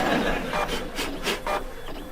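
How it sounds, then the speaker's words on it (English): A slow office printer runs with a steady mechanical whir and repeated rhythmic swishing passes as paper feeds through, heard up close and alone. "This printer is driving me crazy. It's so slow."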